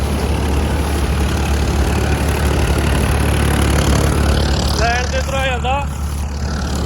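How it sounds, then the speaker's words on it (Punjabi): A Farmtrac 60 tractor runs a straw machine with a loud, steady, low engine drone throughout. A voice speaks briefly over the engine near the end. "ਹੁਣ 16 10 ਤੇ ਚੱਲਦਾ ਫਾਰਮ ਟਰੈਕ 60"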